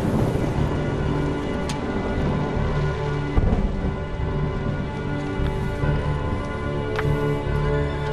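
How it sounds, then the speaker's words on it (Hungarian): Steady rain falls throughout with a few sharp thunder crackles and rumbles, a dense, continuous storm wash with no voices. "elállt az eső"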